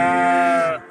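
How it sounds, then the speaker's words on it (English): A single loud, close sheep bleat, a strained wavering cry that holds for most of a second before breaking off abruptly. "That's just a sheep yelling."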